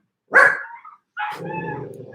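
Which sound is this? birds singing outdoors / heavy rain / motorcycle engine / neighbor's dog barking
neighbor's dog barking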